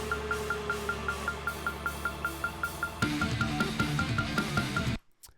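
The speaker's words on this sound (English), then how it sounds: "And then we also have hi-hat China count-ins" A steady electronic click track ticks in a fast even rhythm, then after a few seconds a drum-like layer with hi-hat and China cymbal count-in hits joins before it cuts off abruptly.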